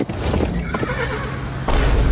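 A horse gives a loud, close whinny that rises and trails off, then a second sharp burst of neighing near the end.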